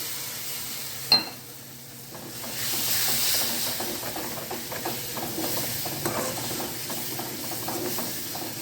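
A sharp clink, then a loud hiss as water hits hot spices in a pan for a green onion and papad curry, settling into continuous sizzling and bubbling.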